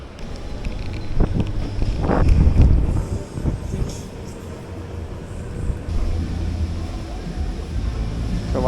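Strong, gusty wind buffets the microphone outdoors during an electric scooter ride on an E-twow Booster V, a steady rumbling roar with stronger surges, while a person speaks over it.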